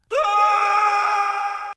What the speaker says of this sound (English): The worker's scream echoes